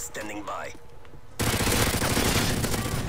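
In a shooter video game, a sudden burst of heavy automatic gunfire breaks out after quiet game sounds and keeps up as a dense, loud, rapid rattle to the end.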